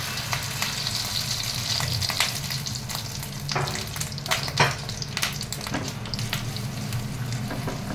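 Beaten egg seasoned with salt and turmeric frying in hot oil, a loud continuous sizzle close by with occasional crackles and pops, no voices.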